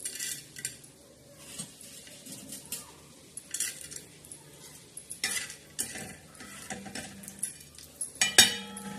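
Dal dry-roasts in a pan while a metal spoon stirs it, giving intermittent scraping and clinking strokes against the pan with a light hiss between them and quiet pauses.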